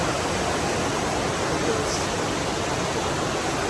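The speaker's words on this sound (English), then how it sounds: "there's the waterfall." Loud, steady rush of falling water from a waterfall at Sandy Ford, a continuous broadband roar close by, with a brief voice barely above it.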